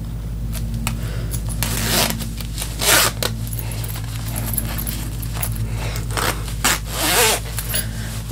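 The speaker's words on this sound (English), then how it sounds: "Can I actually zip this up?" A budget gothic sweatshirt's zipper is worked up and down, several quick rasping zips in short bursts, close and clear with fabric rustling between them.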